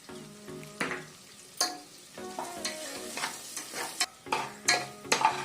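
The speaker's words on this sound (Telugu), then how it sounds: "జీడిపప్పు అంత బాగా ఫ్రై అయిందండి" Cashews fry with curry leaves, green chillies and turmeric in a pan for pongal, a soft sizzle broken by repeated scraping stirs of a spoon against the metal, close and uneven.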